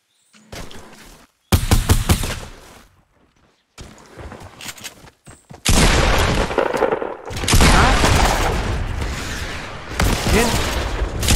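Shotgun fire in the video game Fortnite: loud, sharp blasts arrive in separate bursts with quiet gaps between them, then give way to a sustained, dense stretch of battle noise.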